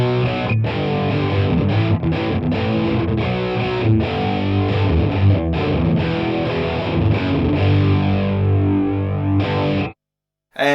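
Dirty, distorted electric guitar run through a shallow harmoniser preset plays a dense, sustained chordal passage alone at steady loudness, stopping abruptly near the end with a short silence before a final strike.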